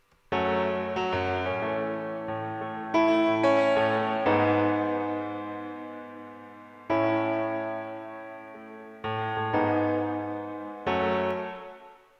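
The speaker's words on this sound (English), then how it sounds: "Over on piano, I have a shorter reverb that sounds like this." Piano chords are struck in a slow progression, each ringing and fading with a short, tight reverb tail between the next hits.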